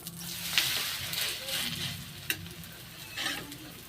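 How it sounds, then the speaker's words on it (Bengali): Patishapta pitha frying in ghee in a pan, a steady soft sizzle with scraping spoon strokes and a few sharp clinks as ghee is brushed over the crepes. "এই পাশেও একটু ঘি লাগিয়ে দিলাম এইভাবে চামচে করে। দু পিস বেশ ভালো করে ভেজে নেব।"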